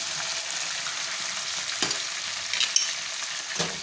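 Potatoes and ginger-garlic paste fry in a pan for a quick biryani, giving a steady close sizzle with a few soft stirring knocks and no voices.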